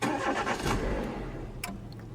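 A car engine cranks and catches after being brought back with fresh oil and new coolant, a loud broadband burst of starting that settles into a steady running drone, close and with no voices.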